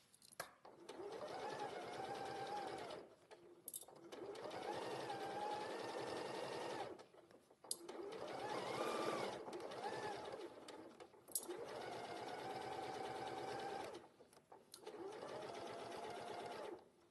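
A sewing machine runs a seam in five long steady bursts separated by brief pauses, close and clear with a whining motor tone.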